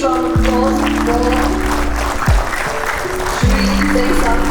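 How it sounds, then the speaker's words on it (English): Audience applause at an award ceremony in Garo Hills, Meghalaya: a steady wash of clapping throughout, overlaid by loud sustained musical tones with sliding pitches. "A huge round of applause"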